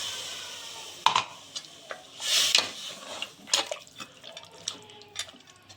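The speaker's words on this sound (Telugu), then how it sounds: "దీంట్లో మనం మిక్సీ జార్ కడిగిన నీళ్లు కొద్దిగా పోసుకోవాలి ఫ్రెండ్స్" Rinse water from a mixer jar is poured into mutton masala cooking for mutton chops, producing soft intermittent splashes and drips with a faint liquid trickle, fairly quiet and close.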